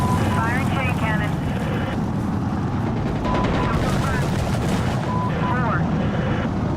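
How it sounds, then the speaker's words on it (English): Gunship chain cannon fire support in Insurgency Sandstorm, heard as a dense stream of distant, low booming bursts under continuous wind and battlefield noise, with brief radio-style voice chirps. "Firing chain cannon."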